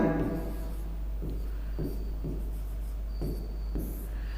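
Chalk or marker writing words on a board in a Hindi class, a series of short scratchy strokes in uneven rhythm over a steady low hum, close and fairly quiet.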